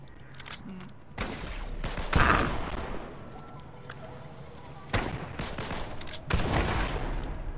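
Lock-on pistol shots in the Fortnite video game, with several sharp bursts of rapid firing separated by short pauses, fairly close and loud, with a player talking at times.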